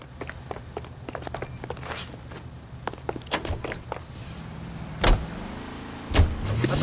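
A car in the game L.A. Noire, with footsteps and door clicks first, then the engine starting and a low engine hum building under two sharp thumps near the end, fairly quiet overall.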